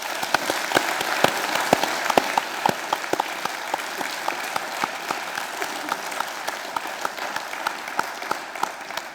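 A book-event audience claps for Scottish nationalist Ian Hamilton, distinct individual claps ringing out over a steady bed of applause that starts strong and slowly thins and softens toward the end.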